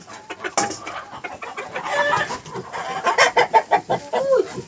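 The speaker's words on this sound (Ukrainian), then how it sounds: "Ой, Боже, всі кури зайшли вже сюди." Hens cluck and squawk close by in quick, irregular bursts, a busy flock of chatter with scattered louder calls.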